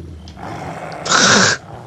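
Guttural growl from an enemy in the video game Resident Evil 4, a loud rough snarl swelling in the second half, heard alone without talk.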